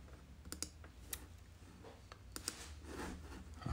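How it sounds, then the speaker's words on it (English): Scattered sharp clicks, a few close together, sound against a quiet room hum, with a low thump right at the end. "Maybe you can hear the mouse clicks"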